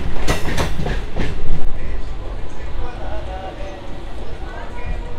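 A local train runs from Howrah to Tarakeswar on the first day of Shravan month, its carriage giving a loud continuous rumble with rhythmic rail clatter near the start, heard from inside the coach.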